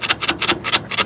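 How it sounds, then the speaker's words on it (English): Repeated metallic taps on a caked-on, grimy bolt under a 1976 GMC motorhome, about five sharp, evenly spaced strikes in quick succession, close by with no talking. "So I might just have to tap it, the hammer or something."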